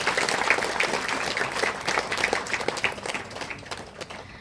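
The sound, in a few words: audience applause for nursing graduates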